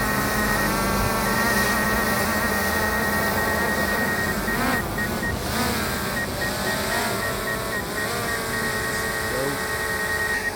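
A DJI Mavic Air 2 drone lifts off and flies nearby, its steady high-pitched propeller whine and buzzing hum continuous and loud throughout, with a constant tonal drone over broadband noise.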